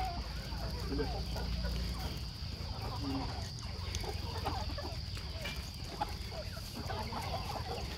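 Chickens cluck and scratch at hydroponic fodder nearby, a steady busy clatter of pecking and soft clucks with a constant high hum in the background.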